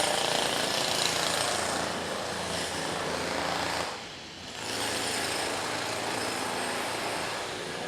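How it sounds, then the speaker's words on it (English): Steady rapid pounding of a small jackhammer on a busy New York City street, continuous apart from a brief pause midway, fairly close and loud. "That's like a little jackhammer."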